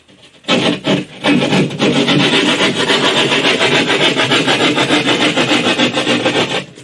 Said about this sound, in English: I need to make one cut with a saw